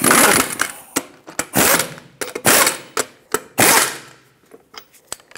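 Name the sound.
lug nuts being snugged up on a Hyundai Accent wheel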